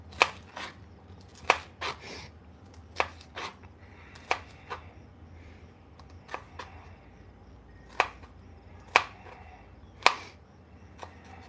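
Knife chopping chili peppers on a board in a home kitchen for classic chili, with a dozen or so sharp, close chops coming in uneven bursts and short pauses, no talking.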